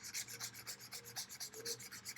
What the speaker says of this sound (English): Now you need to file the edges.